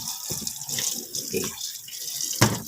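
Water runs and splashes over a car brake rotor being wiped with a rag, an uneven close-up trickle with irregular bursts of splashing and dripping, no talk.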